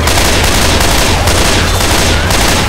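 Rapid, loud gunfire from a gun in the video game Left 4 Dead 2, a dense continuous burst of shots filling the whole stretch without pause.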